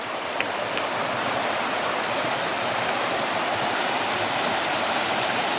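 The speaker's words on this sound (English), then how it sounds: "There's a big river crossing" A big river rushes at a wilderness trail crossing on the Pacific Crest Trail, a steady, loud broadband roar of flowing water that fills the whole stretch without pause.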